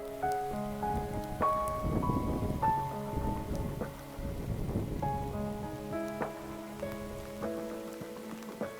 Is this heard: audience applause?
no